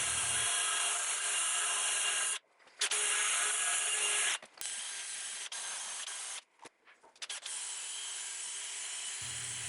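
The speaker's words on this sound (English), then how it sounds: "removing all the paint and mill scale from the areas that are going to be welded" Abrasive tool grinding paint and mill scale off steel cargo bike frame tubes ahead of welding, a loud continuous harsh rasp broken by several short pauses, no speech.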